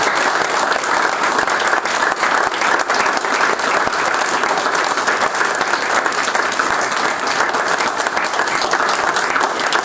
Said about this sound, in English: I'd like you to give him a big round of applause